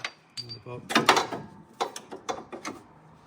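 A wrench clicks and ratchets while a bolt comes off the caster rod of a Nissan Skyline R34's suspension, with several quick metallic clicks and clunks nearby in a quiet garage.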